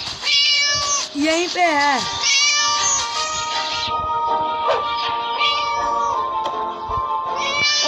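Cat meowing in the Scary Teacher 3D video game, repeated loud close meows and drawn-out wails over several seconds, with someone talking over the calls.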